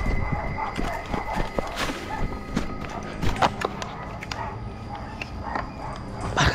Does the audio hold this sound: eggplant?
no